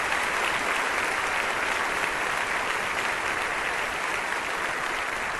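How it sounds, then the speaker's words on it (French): A church congregation in La Colina, Bogotá claps steadily, a moderate, even wash of applause that holds at one level throughout. "un fort applaudissement pour notre mystère"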